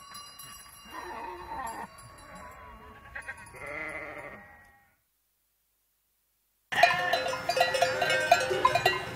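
A flock of ewes is driven into a pen beside a mountain hut, with scattered bleats and tinkling bells, a sudden stretch of silence, then a denser burst of bleating and bells close by.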